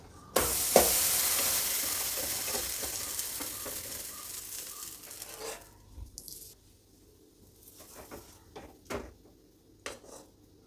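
A dosa cooks in an oiled pan on a low flame, giving a steady soft sizzle with occasional light clinks of a utensil against the pan, fading somewhat toward the end.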